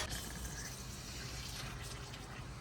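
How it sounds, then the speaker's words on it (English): Water pours into the radiator of an AMC Concord that had sat parked for 26 years, a steady, close, continuous rushing gush with no pauses. "We're gonna fill up the radiator with some water so we can keep running it."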